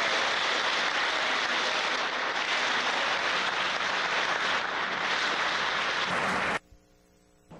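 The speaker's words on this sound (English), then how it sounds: "Give them another round of applause" Audience applause at a North Texas Super Bowl event, a dense sustained wash of clapping holding steady for about six and a half seconds before cutting off abruptly into near silence.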